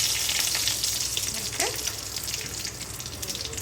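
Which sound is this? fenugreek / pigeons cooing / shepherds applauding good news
fenugreek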